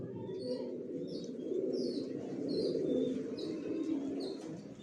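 Big-sized racing pigeon chicks coo in a low, continuous murmur, with faint higher chirps scattered over it, close by and without talk.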